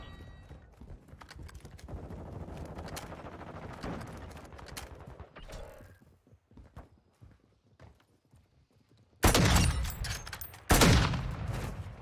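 Shotgun blasts in Call of Duty DMZ: two loud, heavy bursts close together near the end, after a busy stretch of in-game movement and clatter.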